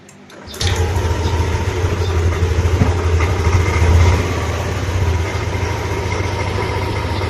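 A car engine with a weak battery cranks briefly and catches after a jump-start from a motorcycle battery, then settles into a steady, loud idle that hums on without talk.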